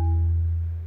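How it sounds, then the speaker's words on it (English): A large marimba key with wooden bars struck once, giving a single deep resonant tone with a sharp onset that rings on and slowly decays, alone with no talking. "There's the marimba key."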